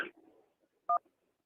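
A single short dual-tone telephone keypad beep sounds as a call-in line is dialed on a sports talk radio show, clear and close, followed by quiet.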